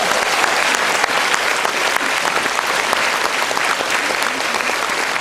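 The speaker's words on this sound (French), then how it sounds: "Не надо аплодировать" Dense, sustained applause from a theater audience, many hands clapping together in a steady roar of crisp claps that carries on throughout without pause.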